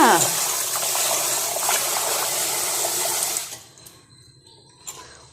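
Ration-shop rice is rinsed in water, with a loud, close, steady gush and slosh lasting about three seconds, then dropping to quiet trickles and a faint splash.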